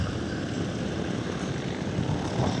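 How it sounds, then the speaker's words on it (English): Piper Twin Comanche twin-engine light airplane taxiing at an airshow, a steady, fairly loud propeller-engine drone that holds throughout, with no voices over it. "We got the only other twin Comanche taxiing out from Comanche Town."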